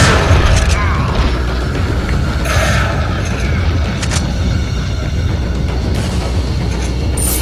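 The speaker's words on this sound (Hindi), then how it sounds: "शॉट गन है बेटा, ये शॉट गन मार।" Shotgun fire in the Resident Evil 4 video game: several loud, sharp blasts spaced a second or two apart, standing out over a dense, continuous bed of game ambience.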